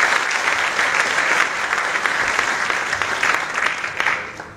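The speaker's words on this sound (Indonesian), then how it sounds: "Tepuk tangan dulu untuk beliau" An audience at a university public lecture applauds a guest speaker, dense steady clapping from a large room, fairly close and even, ending abruptly.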